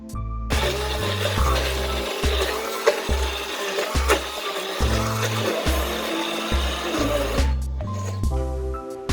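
An immersion blender whirs through herbs and chopped green onions in its mixer cup for Arabic kibbeh, a steady close roar lasting about seven seconds over background music before cutting off.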